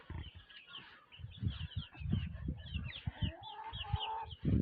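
Chickens shut inside a coop cluck and chatter in a steady, busy stream with short low thumps mixed in, fairly close and continuous throughout.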